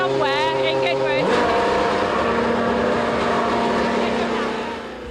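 A loud engine drones steadily at the Goodwood Festival of Speed, its pitch dropping sharply after about a second, with a voice talking underneath the constant roar.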